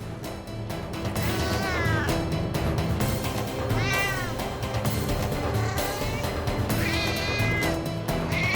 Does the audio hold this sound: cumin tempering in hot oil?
no